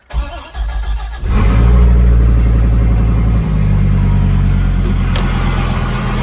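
A Ram SRT-10 or Dodge Viper GTS ACR engine cranks and catches, then settles into a loud, deep, steady idle with a slight rev partway through, close up and without talking.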